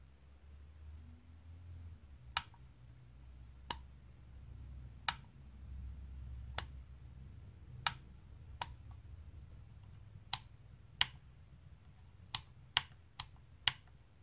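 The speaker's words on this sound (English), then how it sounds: "The toggle switch is very tight, is very easy to use and also provides a nice and audible clicking sound." Toggle switches on a Cube Controls Formula Sport USB sim racing wheel click crisply about a dozen times at irregular intervals, sharp and close over a faint low hum.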